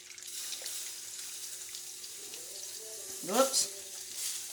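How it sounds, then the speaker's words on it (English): Water poured into thickening gravy in a pan while making Southern biscuits and gravy: a steady splashing, sizzling pour with a short louder gush near the end, with a voice faintly present. "Let's add just a little bit of water"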